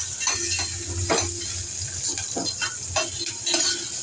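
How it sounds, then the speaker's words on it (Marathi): Potatoes for poha fry in hot oil with a steady, bright sizzle. Soft bubbling crackles and stirring pops come through at close range throughout. "बटाटा घातला की थोडं आपण त्या बटाट्याला तळून घेऊया"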